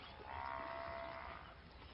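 A buffalo grazing in a field gives a single drawn-out low moo, faint and somewhat distant, over a quiet background.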